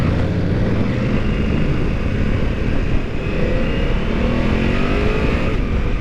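A 2024 BMW F900GS motorcycle in road mode rides along a road, its engine a steady droning hum mixed with constant wind and road rush throughout.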